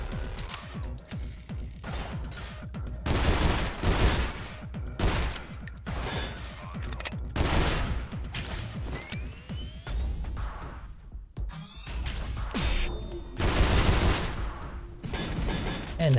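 A robot in Synthetik: Legion Rising fires a sniper rifle amid loud, punchy gunshot cracks and metallic mechanical clatter, recurring in bursts over a steady backdrop of game action.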